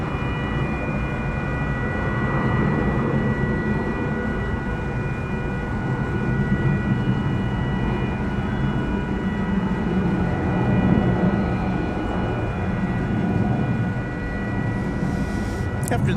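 A jet airliner taking off at DFW Airport at night gives a broad, sustained distant roar that holds steady throughout, with faint talk underneath.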